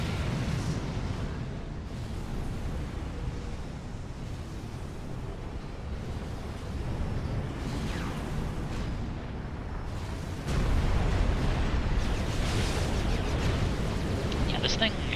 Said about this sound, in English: Guns firing.